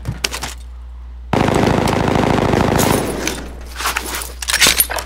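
A rapid burst of automatic gunfire in the video game Call of Duty: Modern Warfare Warzone rattles for a couple of seconds, with scattered clicks and shuffling before and after.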